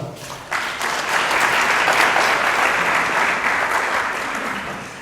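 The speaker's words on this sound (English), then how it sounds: "Let's give them a big round of applause." An audience at a 2019 Herbstfest queen pageant bursts into applause that swells quickly and holds as a full, steady roar of clapping before slowly easing off.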